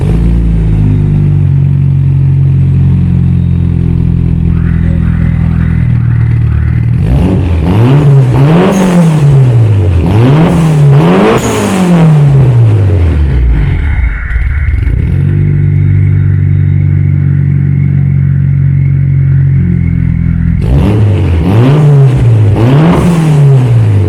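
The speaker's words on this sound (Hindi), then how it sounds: "ये ओरिजिनल रोगू एंड आर का एग्जॉस्ट सिस्टम इसको लगा हुआ है, जिसकी साउंड आपको मैं अभी 1 मिनट में सुनवाता हूँ" Mitsubishi Evolution 8 with a Rogue R exhaust system, loud and close, idling then revved hard in repeated rising-and-falling bursts, a steady idle between runs and another blip near the end, with no talk.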